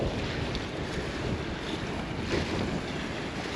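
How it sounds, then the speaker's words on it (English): Strong, gusty wind roars outdoors on a breezy day in Canada, a constant broadband rush buffeting the microphone with no voices. "Little update on this very breezy day."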